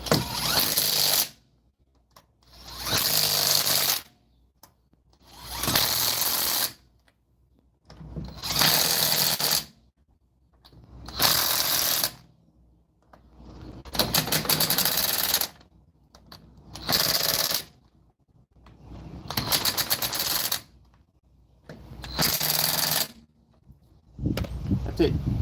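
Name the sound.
impact wrench tightening Kia Soul wheel lug nuts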